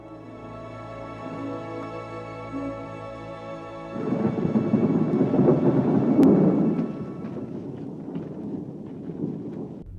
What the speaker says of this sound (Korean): 예수가 십자가에서 숨을 거두자 갑자기 어두워지는 하늘, 그리고 거센 바람과 천둥